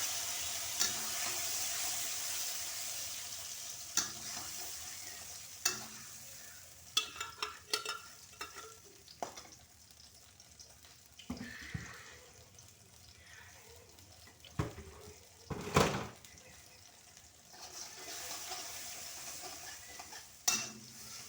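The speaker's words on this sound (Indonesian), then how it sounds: "Kita tumis sampai harum. Kita tumis dulu bawang putihnya sedikit berubah warna ya." Garlic and ground spice paste stir-fried in a pan, with a soft continuous sizzle broken by scattered scraping clicks of a spatula stirring, heard close and fairly quiet with no talking.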